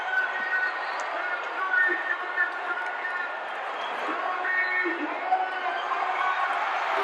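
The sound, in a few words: wrestling crowd roaring at the Sam Houston Coliseum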